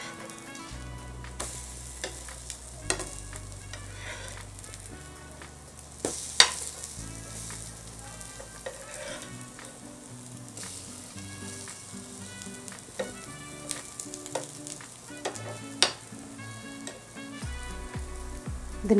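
Masala bread toast fries in a pan, a soft continuous sizzle at moderate distance with occasional scraping and clinks of a utensil, no voices present.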